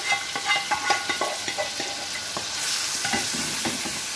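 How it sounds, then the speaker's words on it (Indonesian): Beef stir-fried in margarine and a little oil, with rhythmic scraping stirs in the pan over a steady close sizzle that grows fuller toward the end, and no talking. "Iki mau wis dioseng pakai margarin dan minyak sedikit."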